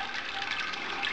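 Sparge water runs slowly through a compacted grain bed while brewing a hazy pale ale, a soft, continuous close-up trickle and wash of liquid with no speech.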